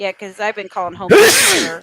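A single loud, close sneeze bursts out right after a stretch of conversational talk during a wrestling recap discussion.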